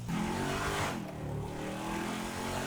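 An off-road car driven in GTA 5, its engine revving and surging steadily with a brief dip midway, loud and close with no talk.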